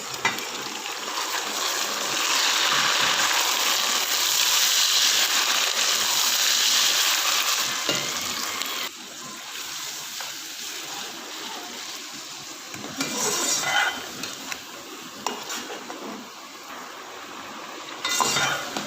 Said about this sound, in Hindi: चिकन हमारा फ्राई हो चुका है, इसको अच्छी तरह से भून लिया है